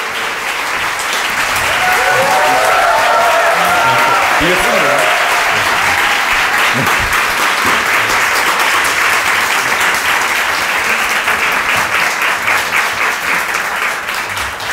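An audience applauds loudly as a company CEO walks up to speak at a church business talk, a sustained, dense roar of clapping lasting the whole stretch, with some voices mixed in early.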